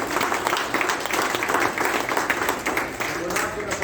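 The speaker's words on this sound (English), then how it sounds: "Give yourselves a round of applause." A small political rally crowd in Winnipeg claps loudly in a dense, continuous wash of applause, with voices mixed into the steady patter throughout.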